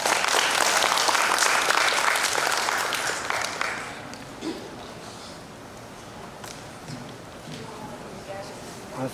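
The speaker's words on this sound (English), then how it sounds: "Please give her a round of applause." An audience at a Thailand public speaking competition claps for a contestant, dense applause loudest at the start and gradually thinning out, with a few voices under it.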